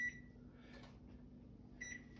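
A kitchen timer gives two short, faint electronic beeps, one at the start and one near the end, over a low steady hum in a kitchen where sourdough is baking in a breadmaker.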